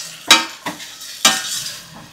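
Close, bright scraping and clattering as mushroom biryani masala with yogurt is stirred in a hot pan, three sharp strokes over a steady sizzle.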